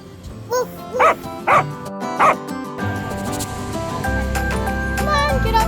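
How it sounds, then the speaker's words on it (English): A dog on a farm lets out four short, sharp barks near the start, then children's voices and general outdoor bustle take over. "Dogs make woof woof."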